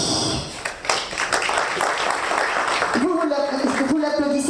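A conference audience at a talk on decarbonization solutions and technologies applauds in a dense, fairly loud burst for about three seconds. A voice then takes over as the clapping fades beneath it.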